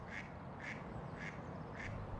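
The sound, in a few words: ducks quacking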